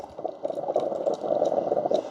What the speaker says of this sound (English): This is boiling water.